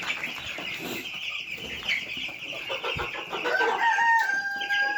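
Broiler chickens clucking and calling continuously in a busy coop, with a rooster-like crow rising near the end.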